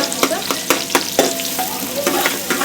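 Onion sautéing in a pan for masale bhat, a bright frying sizzle punctuated by quick rhythmic scrapes and taps of a spatula stirring, close and fairly loud.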